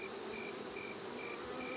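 Honey bees from a Buckfast breeder hive drone in a steady, continuous buzz during an inspection, a dense close swarm hum with a faint high chirping layered over it and no voices.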